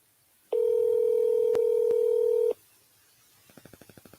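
A telephone line gives a steady tone for about two seconds, broken by a couple of brief clicks, then falls quiet before a rapid series of short, evenly spaced dialing beeps starts near the end.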